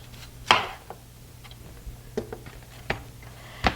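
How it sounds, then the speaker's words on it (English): A knife slices the core off a cabbage in a home kitchen, giving a few sharp, separate chops and cuts, the loudest near the start and the rest spread out and fainter. "I'm just going to cut my cabbage core off."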